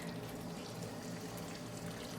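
A quiet, steady pour of brown sugar water into a pan, a continuous soft trickling with no talking.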